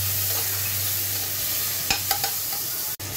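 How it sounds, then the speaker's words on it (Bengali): Chopped onions fry in hot oil with a constant bright sizzle, while a few soft scrapes and clinks of a stirring spoon come through near the end, with no talking. "পেঁয়াজটা একটু ভালো করে ভেজে নেব।"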